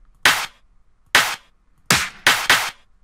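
Five sharp, snappy EDM clap hits, crisp and bright, spaced unevenly with the last few coming close together, with no voices.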